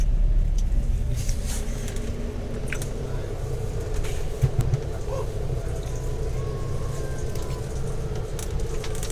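An Adhi Prima sleeper bus on the Palembang to Jakarta route pulls away on the road, its engine rumbling low and continuous with road noise, while people talk inside the cabin.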